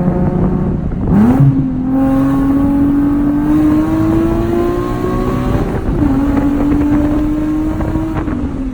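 A Nissan 370Z with a sprint booster accelerates hard, its engine note rising loud and close, dipping briefly at a gear change and then climbing again; there is no talk.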